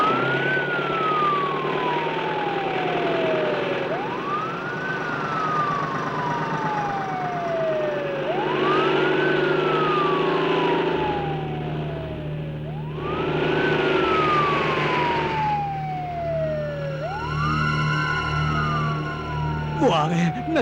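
An ambulance siren wails in repeated rising-and-falling sweeps, loud and continuous over the engine rumble of vehicles, as part of a Hindi-dubbed action movie scene.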